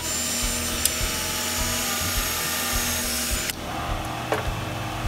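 A power drill bores a hole through a metal male-to-male fence connector, its motor whining steadily and close by before cutting off partway, followed by a few light clicks and knocks.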